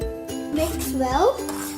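Egg chilli ingredients such as chilli powder and salt being mixed in a bowl, with a utensil clinking and scraping against the dish in a few quick knocks over a short stretch, close up, and no speech.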